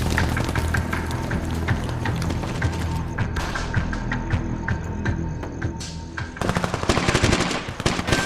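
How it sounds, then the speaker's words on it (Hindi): Rapid machine-gun fire bursts in a TV drama action scene, loud and continuous with dense overlapping shots and a fresh heavy burst near the end, no talking. "ओ अच्छा, भाई साहब, फायरिंग हो गई।"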